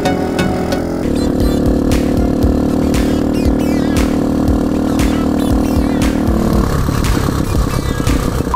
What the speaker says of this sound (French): je peux comprendre qu'ils ont peur avec le bruit de la moto